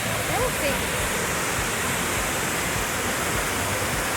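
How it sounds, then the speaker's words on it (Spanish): A steady, powerful roar of falling water fills the scene continuously, loud and close, with no pauses. "Parece que aquí tenemos la mejor vista de la cascada"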